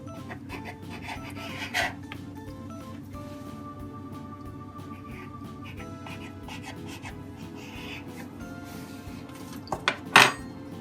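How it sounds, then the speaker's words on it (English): A knife trimming excess puff pastry around a wrapped wheel of brie on a work surface, giving soft scraping and rubbing with a few sharper clinks against the board or dish. "you can take a knife and cut away a bit of the excess on both sides"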